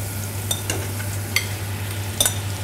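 Baby spinach is tossed and stirred in a hot pan, giving a soft steady sizzle over a low hum, broken by a few brief clicks and scrapes of the pan and spoon.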